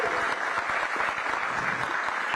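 Dense, loud applause from a crowd at a city small business expo, continuous clapping filling the whole moment without a break.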